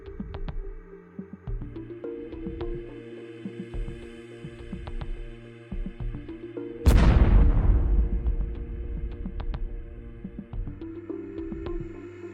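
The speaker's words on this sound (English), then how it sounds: "The explosion occurred again" A sudden heavy blast from an FPV drone strike on buildings booms out over a droning electronic music bed, its rumble decaying over a few seconds.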